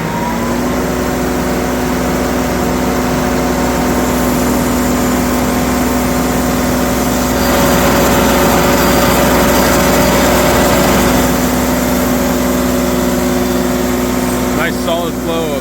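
Timberking sawmill engine running steadily after startup on a Tennessee farm, a continuous loud droning hum with a slight swell midway and a brief clatter near the end.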